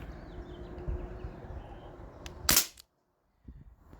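Umarex Brodax airsoft gun running on an HPA tank, with a modified valve pin and lightened spring, fires a single sharp crack at close range after low background noise, followed by silence and faint handling sounds.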